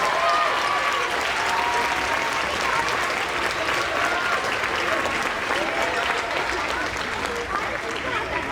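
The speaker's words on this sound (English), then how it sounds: "give Miss Salem a great round of applause, our music teacher." Audience applause at a lower school moving-up ceremony, with friends and family clapping loudly and continuously for over eight seconds while children's voices and cheers ring through the crowd.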